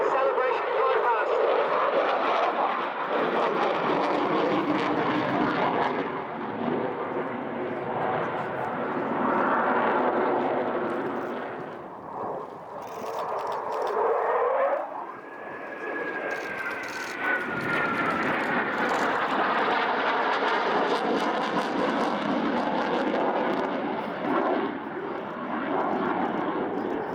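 A vintage aircraft that once joined a celebration flypast over Buckingham Palace passes at an air show, its engine drone loud and sustained, swelling and fading with a pitch shift as it goes by, with voices in the background.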